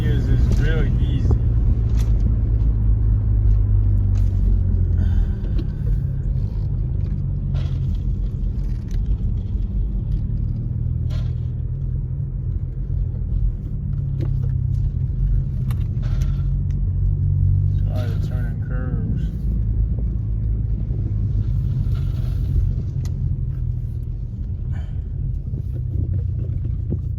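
A manual sixth-generation Chevrolet Camaro pulls hard after a shift into fourth gear, its deep, steady engine rumble holding close and loud throughout, with wind buffeting and faint cabin voices underneath.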